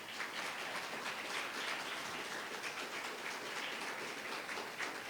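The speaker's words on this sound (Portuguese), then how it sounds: "Então aplauda ao Senhor, por favor." A church congregation at a Baptist Sunday evening service claps together, a soft, dense, even wash of applause heard from some distance and continuing steadily without pause.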